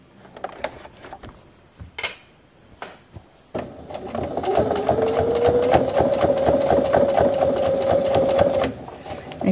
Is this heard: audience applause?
no